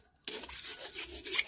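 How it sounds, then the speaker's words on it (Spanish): A shoe-repair knife blade being rubbed over very fine sandpaper, a close, dry rasping scrape repeated in quick back-and-forth strokes for about a second, with no talking. "tienen que tener una lijita fina, muy fina, para pasarle al cuchillo así"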